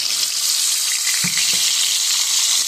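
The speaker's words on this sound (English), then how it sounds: "Now, when I make my bacon, I put garlic in there. Then just toss this." Bacon and garlic fry steadily in a hot pan, a loud continuous sizzle with a couple of soft knocks as the pan is tossed.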